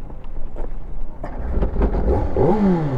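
A car engine strains and revs in second gear, rising and falling through irregular bursts with a clattery, rumbling tone, loud and close, with a rising whine building near the end.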